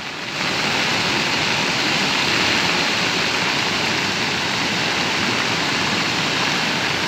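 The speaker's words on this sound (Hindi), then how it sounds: "पानी ज़्यादा आ रहा है" Floodwater of the Markanda river rushing past, a loud steady broadband roar of churning water that holds constant throughout with no pauses.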